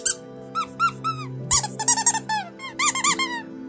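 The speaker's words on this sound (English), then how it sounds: "I have these. They are squeaky toys." Angry Birds rubber squeaky toys are squeezed repeatedly, producing loud, close, high-pitched squeaks in quick irregular bursts, some long and wavering, with no talking.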